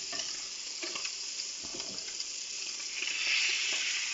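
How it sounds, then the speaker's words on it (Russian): Sausage fries in a pan, a constant close sizzle with faint stirring scrapes and crackles and no talking. "А теперь тут долго будет жариться, наверное."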